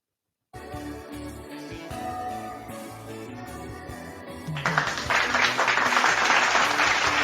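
Cheering and applause from a crowd burst in partway through, loud and dense, over recorded music that plays throughout.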